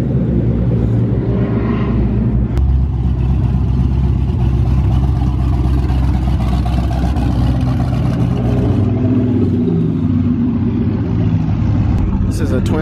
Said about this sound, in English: This is a twin turbo Gallardo, and it's a manual.